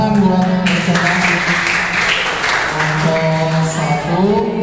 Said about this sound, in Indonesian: Tepuk tangan buat presentasi